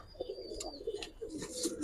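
Giribaz and coloured pigeons coo softly in a loft, a few faint, low warbling calls with light chirps in the quiet background.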